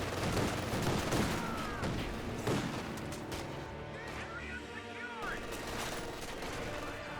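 Gunfire from a 222 armored car in Company of Heroes 2, a World War II strategy game: repeated bursts of automatic fire and booms in a busy battle mix, with a commentator talking over the action.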